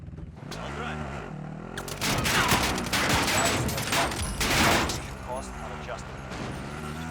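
Rapid gunfire bursts and booms ring out in the video game Call of Duty Warzone, dense and loud for several seconds, with people talking excitedly over it.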